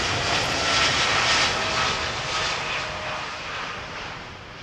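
Jet airliner departing Heathrow runway 27R gives a loud, broad roaring rumble that swells and slowly fades as it climbs away, heard alone.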